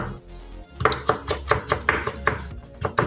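A knife chops a small cabbage-like vegetable on a board with a quick, even series of about a dozen crisp thuds, close and clear with no talk.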